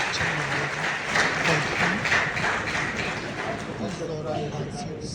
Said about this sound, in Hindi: कृपया तालियों से डीजी मैम का स्वागत करें।